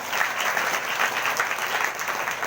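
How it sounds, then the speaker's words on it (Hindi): Congregation at a Sunday prayer service gives a burst of loud, steady applause, a dense wash of many hands clapping together throughout with no voices on top. "जोरदार ताली से प्रभु धन्यवाद करें।"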